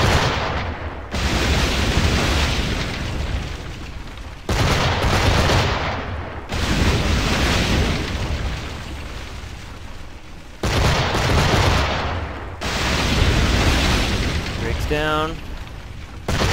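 Fortress cannons firing in Assassin's Creed IV Black Flag, a series of heavy, sustained rumbling blasts that repeat every few seconds, loud and close, with brief quieter gaps between them and a short spoken remark.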